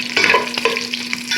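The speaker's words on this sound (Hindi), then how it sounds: "गोश्त को फ्राई करते हैं 5 मिनट तक" Beef pieces fry in a pot for pulao, giving a steady, close sizzle with a few sharper stirring scrapes and clinks of a utensil against the pot; no voices.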